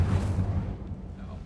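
A fire spell cast in the Hogwarts Legacy video game gives a brief low rumbling whoosh that fades out over about a second, with no talk over it.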